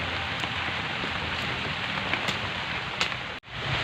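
Heavy rain pours steadily outdoors in a village, a dense, even hiss of falling water close by, briefly cut off near the end before resuming.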